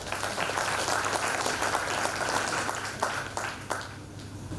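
An audience at a Hindi-speaking public gathering breaks into sustained applause, dense crackling claps that hold steady and then taper slightly toward the end, with no talk.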